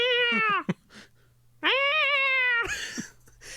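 Person imitating a cat, voicing two drawn-out, loud meows separated by a pause, with a brief breathy sound after the second.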